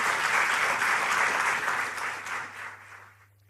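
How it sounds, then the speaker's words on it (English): An audience at a meeting between President Obama and young Vietnamese entrepreneurs claps in sustained, dense applause that holds steady, then gradually thins and fades out near the end. "So please give them a big round of applause,"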